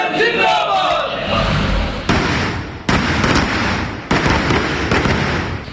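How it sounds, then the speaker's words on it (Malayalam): Firecrackers burst at a street celebration by party workers in Mananthavady, Wayanad, marking a minister's swearing-in: a rapid crackling volley followed by several sharp, loud bangs spaced about a second apart, over crowd noise and a talking voice. "മാനന്തവാടിയിലെ CPM പ്രവർത്തകർ പടക്കം പൊട്ടിച്ച ആഘോഷത്തിലായിരുന്നു"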